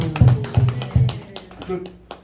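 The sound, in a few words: congregation clapping in church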